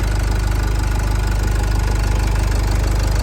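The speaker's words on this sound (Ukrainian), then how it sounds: "мотор працює чітко, рівненько" A Renault Koleos engine idling, heard as a steady, even low rumble with a fine regular pulse, close and fairly loud throughout, with no voices.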